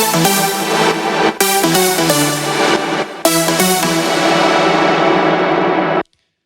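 A bright trance synth lead washed in reverb and sidechained with LFO Tool at quarter rate plays chords that pump in a steady rhythm. The chords swell, briefly duck and return, then the sound cuts off abruptly into silence.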